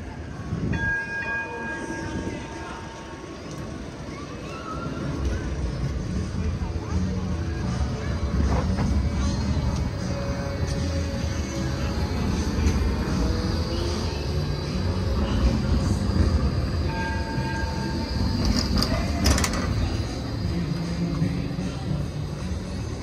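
A tram running during testing, a continuous rumble of wheels on rails with squeals and a horn or bell note, moderately loud and close.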